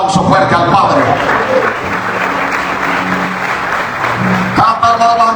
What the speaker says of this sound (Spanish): ¿Cuántos sonríen y dan un aplauso fuerte al Padre?